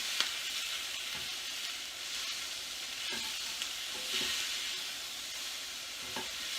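Garlic fries in a pan with a steady, quiet sizzle and hiss, broken by a few soft clicks and stirring knocks of a utensil against the pan.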